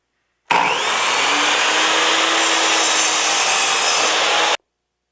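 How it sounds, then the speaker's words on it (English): Miter saw cutting a piece of wood for a bird house: a loud, steady whining roar that starts abruptly, runs for about four seconds with constant intensity, then stops cleanly. "I'm going to use the miter saw to make my cut."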